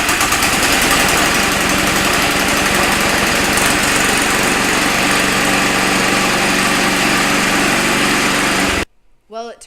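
A snowblower engine runs at a steady, loud, buzzing idle with a rapid vibrating rhythm, then cuts off abruptly, leaving near silence and a brief voice.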